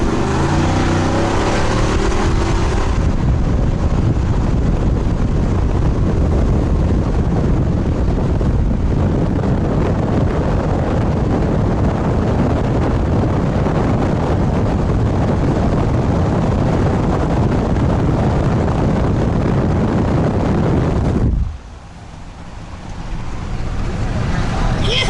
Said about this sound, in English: It's awful windy out there.